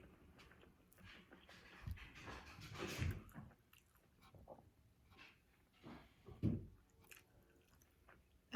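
Close, quiet chewing of sushi nigiri, rice dipped in soy sauce, eaten in one bite: soft wet mouth sounds with a few louder crunchy bites, no talking.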